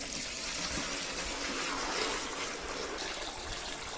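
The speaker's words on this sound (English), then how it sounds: "Fill the water." Tap water pours steadily into a Milton spin mop bucket, a constant rushing gush at even loudness throughout, with no voices.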